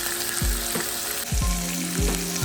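Chopped spinach and minced garlic sizzle in hot olive oil in a pan, a steady frying hiss broken by a few sharp clinks and scrapes of a utensil stirring.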